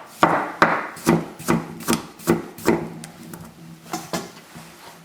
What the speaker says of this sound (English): Now, I'm going to cut a few slices.